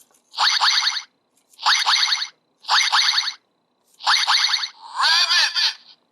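Five bright electronic chirping bursts from a Kamen Rider Build DX Rabbit Tank Full Bottle toy being shaken, each about a second long with short silent gaps between them. The last one sounds warbled and different.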